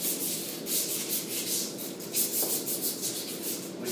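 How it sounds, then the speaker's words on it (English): Pump shaft being roughed up with 180 grit sandpaper before a mechanical seal installation, a steady rhythmic rubbing and scraping, close and fairly quiet, with no talking. "we need to rough the shaft up"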